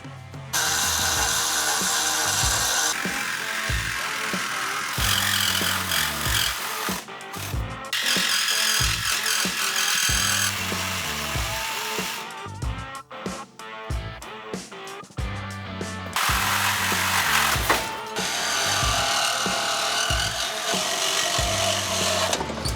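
A Sawzall reciprocating saw cuts through the frame of a Toyota Tacoma truck, giving loud, harsh, buzzing bursts of cutting broken by brief pauses and restarts, close up and with no talk.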